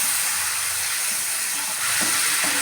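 Spice paste for potol posto, salted and loosened with a little water, fries in a pan with a steady, dense hiss and sizzle throughout and a slight swell near the end.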